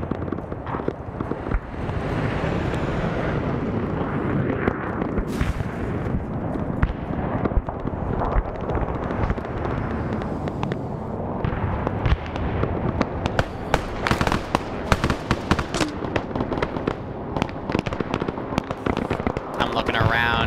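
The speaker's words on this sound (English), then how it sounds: "Now you're gonna have the long range tank fire here." Long-range tank fire and explosions during a Khe Sanh defence battle in Arma (SOG Prairie Fire) form a dense, continuous barrage of rumbling booms and crackling blasts, loud throughout with sharper hits toward the end.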